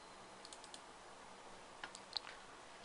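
A computer mouse gives a few soft, close clicks in a quiet room. A brief double click follows near the end, and no one speaks.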